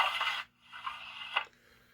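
A tiny scraping, hissing rasp comes from the sliding cab window sound effect of a Piko BR 216 diesel model locomotive in H0 scale, with two short strokes broken by a brief gap and played close and fairly quiet.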